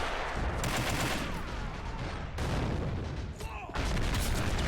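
Gunfire crackles through a video-game trench firefight in the Battle of Devil Ridge, with dense, overlapping shots and booms that keep up almost without a break, dropping only briefly before swelling again. Nobody speaks.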